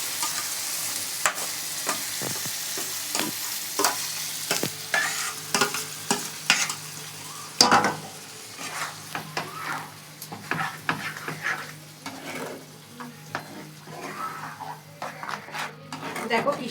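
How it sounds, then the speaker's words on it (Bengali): Spinach paste fries in oil for palak paneer as a spatula stirs it, giving close, uneven scraping and slapping strokes over a crackling sizzle, while someone talks intermittently. "এবার আমি পালং পিসটা দিয়ে দেবো,"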